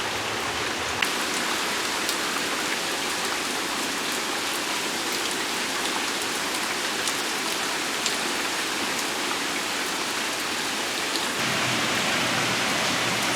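Continuous rain from the edge of Hurricane Laura in Arkansas pattering evenly on surfaces nearby, a soft steady hiss with a few sharper droplet ticks and a slight swell near the end.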